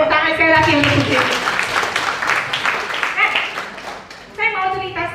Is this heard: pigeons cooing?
no